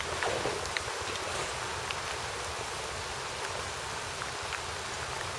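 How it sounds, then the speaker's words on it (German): Steady rain falls on an eel-fishing spot while the sun shines, a constant close hiss of drops and patter with a faint rustle of wind, no voices. "Es regnet und die Sonne scheint."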